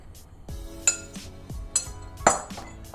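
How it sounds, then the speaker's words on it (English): Two eggs whisked together in a shallow bowl, with bright clinks of a utensil against the dish at irregular intervals and a few duller knocks, close and moderately quiet. "We're just going to take 2 eggs and whisk it together."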